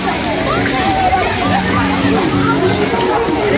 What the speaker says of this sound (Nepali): एउटा पानीको छाराहरू पनि रहेछ।